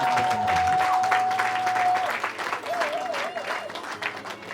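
Wedding guests applaud the bride at a reception, steady dense clapping filling the room alongside a sustained tone, with a voice briefly audible over the crowd.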